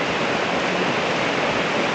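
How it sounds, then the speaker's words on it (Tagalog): Heavy rain pouring down in a steady, dense roar, loud and unbroken throughout. "Bigla lang bumuhos yung lakas ng ulan."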